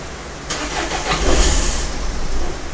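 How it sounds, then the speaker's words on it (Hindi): A Nissan Terrano diesel with a fuel supply problem cranks and fires, the engine rumbling up briefly before it loses power and stalls; close and fairly loud. "गाड़ी स्टार्ट हुई, फिर से बंद हो गई"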